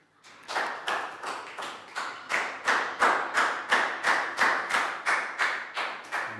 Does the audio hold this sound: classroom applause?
yes